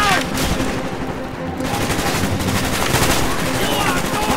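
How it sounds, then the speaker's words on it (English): Rapid gunfire from the video game Call of Duty: Black Ops, dense and continuous bursts filling the whole stretch, loud and close with a busy battle mix behind it. "What am I getting shot by?"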